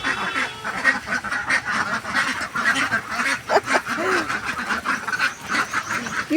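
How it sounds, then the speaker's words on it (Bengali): Ducks quack and honk at a market, many birds calling at once in dense, overlapping bursts, loud and close throughout. "কত হাঁস"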